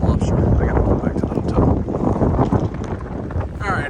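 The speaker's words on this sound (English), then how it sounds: "Alright, it's windy." Strong wind rumbles and buffets the microphone outdoors on a city street near a hotel, loud and continuous with gusty swells.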